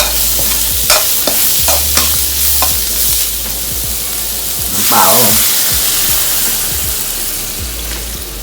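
Field rat meat is stir-roasted in a pan outdoors, with a steady loud sizzle and repeated scraping and knocking strokes of a spatula, plus a brief wetter hiss midway.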